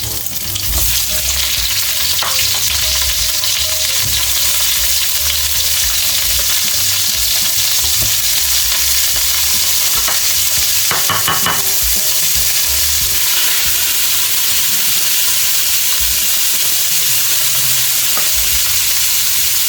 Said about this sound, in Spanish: se me ha olvidado pasar un poquito por la sartén las gambitas al principio